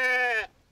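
A sheep on a farm gives one clear, near bleat lasting under half a second, then falls to quiet with a faint low sound afterward.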